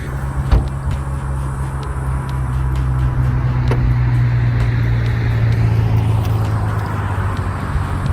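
Cars passing along a road on Île de Ré, a steady, fairly loud traffic rumble that swells in the middle and holds, with one sharp knock near the start and no talk.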